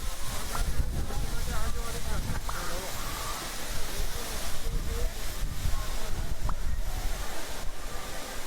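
Loud, continuous wind buffets the microphone with low rumbling thumps and gusts throughout.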